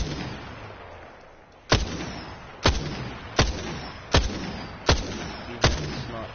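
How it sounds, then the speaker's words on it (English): Marksman rifle in the Apex Legends video game firing six single heavy shots at a slow, even pace, each a sharp loud crack with a short ringing tail, with no voices. "Now this one, I'd categorize this, it's a marksman rifle."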